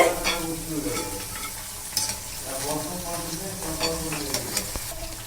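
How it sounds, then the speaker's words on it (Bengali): Coriander-leaf pakoras fry in hot oil, a close, continuous sizzle broken by stirring and scraping in the pan, with a voice talking faintly over the cooking. "এইভাবে কিন্তু আমি সবকটা পাকোড়া ভেজে নিচ্ছি"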